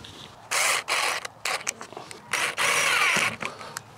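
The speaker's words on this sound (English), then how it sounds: "let me get some screws started" A power drill drives screws into a mobile pasture shelter frame in repeated short bursts of whirring, some quick stutters between them, close by with no talk.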